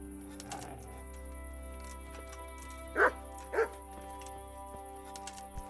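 Dog in the medieval RPG Kingdom Come: Deliverance gives two short, loud barks a moment apart over a steady game ambience with faint birdsong.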